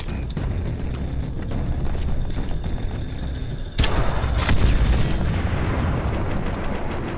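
In Call of Duty 5 multiplayer, constant rattling gunfire and rumbling battle noise run throughout, broken midway by a loud, sudden explosion whose heavy boom lingers before the firefight carries on.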